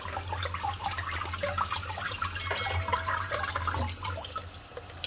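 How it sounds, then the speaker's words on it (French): Cooked Chinese noodles rinsed under cold running water, a steady splashing rush of tap water with close, gurgling detail throughout. "on va les passer à l'eau froide pour stopper la cuisson"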